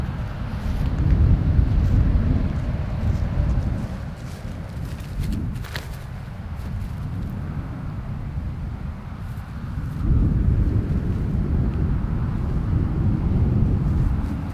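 Strong outdoor headwind on a disc golf course buffets the microphone, a loud continuous low rumble that swells and eases, steady throughout with no speech over it.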